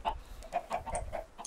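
Chickens in the Minecraft video game cluck in short, quiet, repeated bursts at an irregular pace, faint and without talk.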